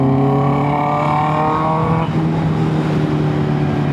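A Honda CB650R E-Clutch motorcycle's four-cylinder engine screams at high RPM, a loud, close, steady whine that shifts pitch midway.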